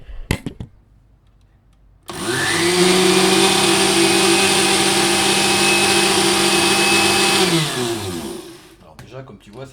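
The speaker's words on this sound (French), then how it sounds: "Moi j'ai fait ça avec un blender." A blender mixes icing sugar and almond powder for macarons, starting abruptly and running as a steady loud motor whine for about six seconds before winding down, with brief handling noises before and after.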